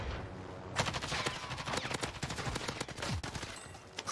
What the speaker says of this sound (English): Shot somebody out of there.